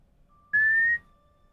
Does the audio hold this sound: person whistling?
yes